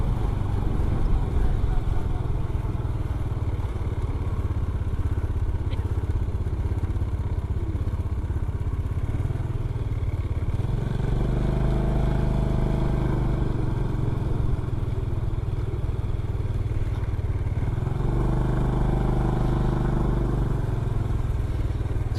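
Motorcycles ride up onto a ferry during a touring trip, their engines droning steadily and swelling twice in loud, rough surges as bikes climb aboard, with a constant rumble of the ship and surroundings underneath.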